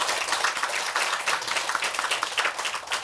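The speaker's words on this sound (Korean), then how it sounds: "사부대중과 같이 축하의 박수를 한번 보내주시기 바랍니다" A congregation applauds at the opening ceremony of a Korean Buddhist temple, Tongcheonsa, in Osaka, Japan. The clapping is a steady, dense patter of many hands, sustained without pause.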